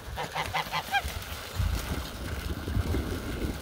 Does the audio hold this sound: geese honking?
yes